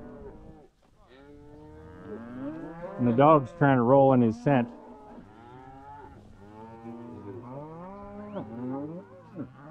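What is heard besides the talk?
cows mooing on a ranch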